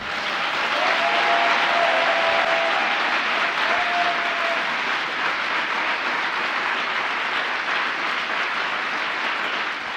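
A church congregation breaks into loud, sustained applause that fills the room, a dense continuous clapping roar running steadily from start to finish with no pause.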